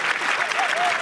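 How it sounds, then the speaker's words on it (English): Clapping from an arena crowd at a live show, a dense, steady wash of applause filling the whole short stretch, with a faint tonal whistle or cheer riding over it. "That's a solid 8 out of 10 clap."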